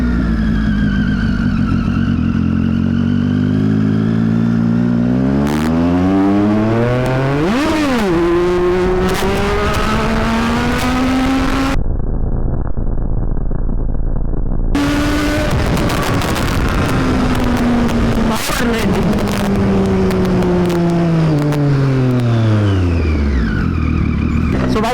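A superbike engine revs hard while racing a schoolboy on the road, loud and close, rising and falling repeatedly in long sweeping pitch climbs with brief throttle drops, continuous with no talk.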